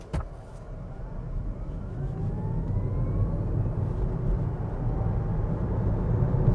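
A Kia EV3 GT-Line electric car accelerating hard from a slowed pace on a 60 road, heard from inside the cabin as a rising motor whine over steadily building road and wind rumble after a short click.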